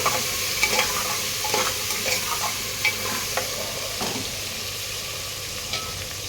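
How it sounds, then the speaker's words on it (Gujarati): Chopped vegetables for Kathiyawadi undhiyu are stirred into hot oil tempering with asafoetida, a loud steady sizzle punctuated by irregular scraping and clinking of the spoon against the pan; nobody talks. "વઘારમાં નાખવાનું, પછી આવી રીતે હલાવી લેવાનું."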